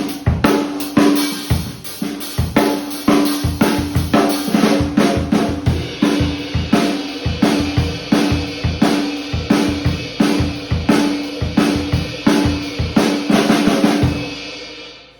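A drum kit plays a driving 2/4 groove in a 6/8 worship setting, loud and close, with steady hard-hitting kick and snare backbeats under ringing cymbals and a sustained low tone, continuing evenly for most of the passage before a fade.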